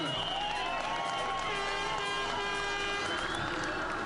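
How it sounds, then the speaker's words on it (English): Crowd applauding and cheering for world champion rally driver Sebastian Loeb on the ceremonial start ramp of the 2005 Swedish Rally, a steady dense wash of clapping and voices with music or a PA drone running underneath. "Last year's winner, Sebastian Loeb, taking the applause on the ramp."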